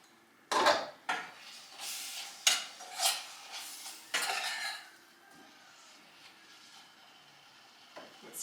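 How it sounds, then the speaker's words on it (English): A spoon scrapes and clinks against a pan while sorrel sauce is stirred, several distinct knocks and scraping strokes in the first half, then quieter background. "I'm just going to stir this sorrel."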